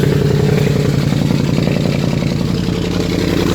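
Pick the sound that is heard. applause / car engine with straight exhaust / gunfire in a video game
car engine with straight exhaust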